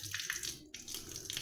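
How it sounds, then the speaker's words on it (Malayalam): Steady rushing water flows and gurgles, as if draining away, with a brief break partway before the flow resumes. "അത് വെള്ളമാണ് പോകുന്നത്"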